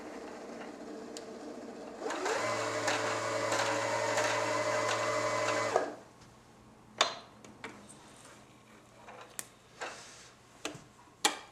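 Janome XL601 sewing machine winding a bobbin: a steady mechanical whir with a tonal hum runs for about three and a half seconds, then stops, followed by scattered small clicks and handling taps.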